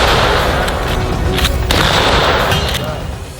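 Lever action rifle in .38 Special firing outdoors, a loud sharp report with a rolling, sustained roar of blast and echo filling the moment.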